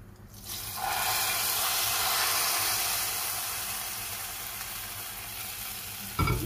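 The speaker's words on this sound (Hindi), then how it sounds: "और अब आप देखें क्या लगने लगा है तड़का कढ़ी को" Hot tempering oil with spices poured into kadhi pakora bursts into a loud sizzle that rises quickly, then settles into a steady hiss that slowly fades, close by with no talking.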